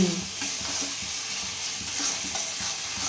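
Goat fat and bottle gourd are stirred and fried in a pan: a steady, close sizzle with soft, rhythmic scraping strokes of the utensil, continuing evenly throughout with no talking.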